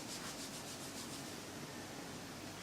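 A hand rubs a bare foot during a hip and ankle mobility exercise, making a soft, steady, faint brushing hiss with no voices.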